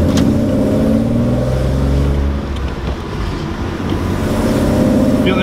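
BMW car with an M52 engine and a repaired Vanos pulling onto a main road, a loud steady engine drone heard from inside the cabin, rising and falling slightly with throttle, no talk.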